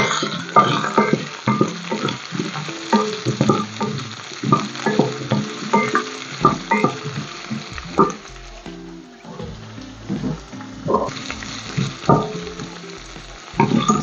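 Onions fry and sizzle in a pan for shahi paneer, a continuous close crackle with repeated stirring scrapes and clinks throughout, no talking.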